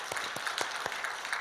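Church congregation clapping to encourage students during a family worship service, a steady wash of many hands applauding together with a few sharper claps standing out, fairly close and continuous.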